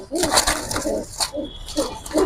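Military red-foot homer pigeons coo in short, repeated throaty phrases, close and fairly loud, with brief pauses and faint background noise between the calls.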